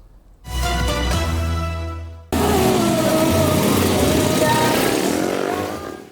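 Trail motorcycles on an off-road ride through rough terrain in Krasak village, Boyolali, Central Java, roar close by in a loud sustained drone that cuts off and is followed by a denser, louder engine blare that fades at the end.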